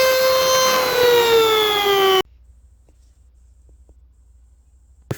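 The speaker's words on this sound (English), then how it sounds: "So I'm going to Dremel a hole through there" A Dremel rotary tool cuts a hole through Porsche door-sill trim, giving a loud, steady high-pitched whine that sags slightly in pitch for about two seconds before stopping abruptly into near silence.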